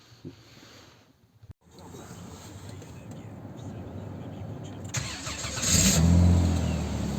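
A 2003 Chrysler Concorde with a 3.5 V6 cranks briefly and fires, then settles into a fairly quiet, steady idle close by, with a slight swell in engine noise near the end.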